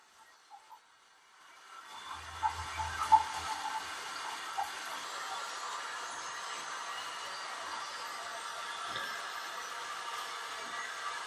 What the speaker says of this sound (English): Going to fill it up with water now and want to see what happens.